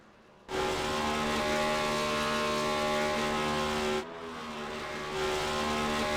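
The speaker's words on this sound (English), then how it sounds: "We do have the dual burnouts" Race cars in a racing video game do dual burnouts at Homestead. A loud, steady engine roar with tire noise starts suddenly, dips briefly partway through, then builds again. No one speaks.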